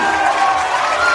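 A loud stadium crowd cheering as the Gala rugby team runs out, a dense continuous roar of voices and applause filling the whole moment.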